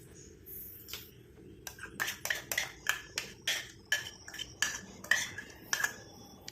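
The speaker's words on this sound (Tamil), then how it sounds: "நல்லா இந்த மாதிரி ஒரு கரண்டி வச்சு மிக்ஸ் பண்ணி விட்டுருங்க" A spoon stirs a homemade hair dye mixture in a pot, making about a dozen crisp metallic clinks and scrapes in a fairly regular rhythm. The sound is close, over a quiet background, with no talking.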